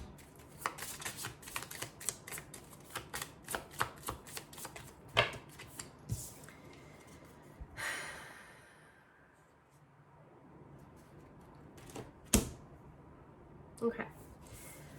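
Tarot cards being shuffled and drawn, giving a run of quick papery riffles and flicks, then a pause and a few sharp single snaps of cards being pulled, close and fairly quiet.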